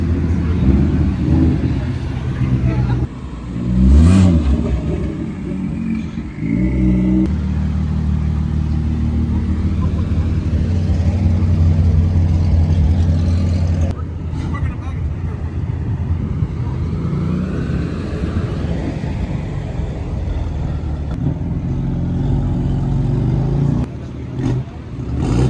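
Car engines rumble and rev at a car meet, a steady low drone lasting throughout with a brief louder surge early on, fairly close and loud, and faint voices mixed in.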